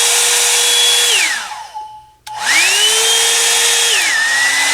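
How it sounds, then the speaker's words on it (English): A Revlon Ionic hair dryer on the cool, low setting blows with a steady whirring roar, drops in pitch and briefly cuts out, then spins back up and settles into a lower hum. "I'm going to take my little Revlon Ionic hairdryer."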